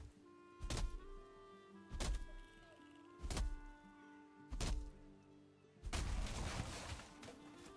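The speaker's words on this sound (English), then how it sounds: "I'm gonna destroy some of this wood" Four evenly spaced heavy chopping thunks strike wood in the video game Valheim, each with a short ringing tail, followed by a longer crunching smash as the wood breaks apart.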